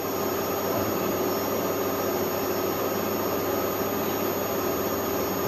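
A milling machine turns a 1-inch cutter at 1100 RPM with a loud, continuous, broadband roar and hum that stays steady throughout, close and with no voices.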